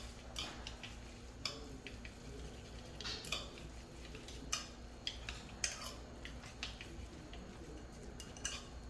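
Chopsticks clink and tap against a bowl while japchae seasoning with sugar is mixed, giving a string of light, irregular clicks over a quiet room hum.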